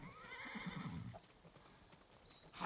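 Horses neigh and hooves clip-clop in the samurai video game Ghost of Tsushima, a fairly close whinny over steady hoofbeats that fade to a quieter patter.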